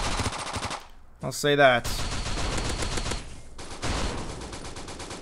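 Lewis gun fired in the shooter game Bullet Force, loud bursts of automatic shots at a fairly slow, heavy rate, broken by a short pause and a brief reload-like clatter, with a voice speaking briefly over it.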